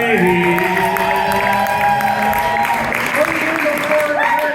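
An audience at a ComedySportz improv show applauds and cheers for the players, sustained clapping mixed with whoops and raised voices throughout.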